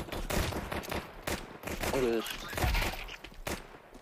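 Rapid burst-fire gunshots in the Counter-Strike 2 video game crackle in quick volleys throughout, loud and close, with a player's voice briefly talking over the shooting.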